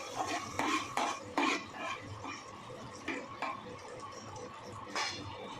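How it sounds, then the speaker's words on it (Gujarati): Curd and garlic paste are stirred into a mung curry with a spoon scraping and clinking against the pot, a series of close, irregular taps and scrapes. "હવે આપણે બધું બરાબર મિક્સ કરી લઈશું"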